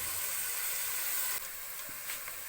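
Onions with ginger and garlic paste sizzle in hot oil for chana pulao, giving a steady bright hiss that eases slightly partway through; no talking.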